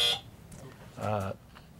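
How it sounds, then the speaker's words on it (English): A brief electronic quiz buzzer tone at a school academic league match, a steady harmonic drone lasting about a third of a second, with quieter room noise and faint voices around it. "The buzzer isn't reset."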